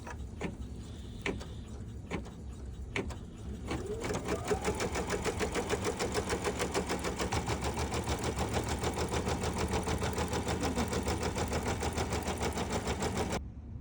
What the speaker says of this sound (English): first step, we're gonna go and stitch directly on our stabilizer